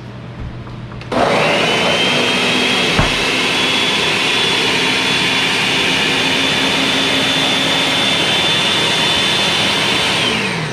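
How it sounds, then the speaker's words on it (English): A blender starts after a second of quiet and runs hummus to a smooth puree, a loud, steady whirring roar that holds evenly to the end. "So you're just gonna blend that until it's perfectly smooth."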